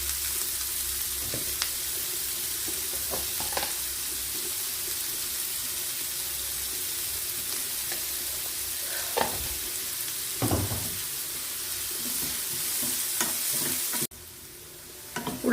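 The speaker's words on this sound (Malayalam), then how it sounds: "ഉള്ളിയെല്ലാം ഇവിടെ നന്നായി വഴന്ന് വന്നിട്ടുണ്ട്." Chopped onions sautéing with a pinch of salt in a pan, a constant close sizzle with occasional stirring knocks and scrapes, cutting off abruptly near the end.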